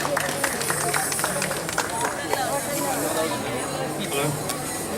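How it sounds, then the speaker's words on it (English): An audience applauding after a performance at a youth dharma and yoga fest: continuous mixed clapping from a crowd with murmuring voices underneath, at a fairly loud, even level. "So big round of applause."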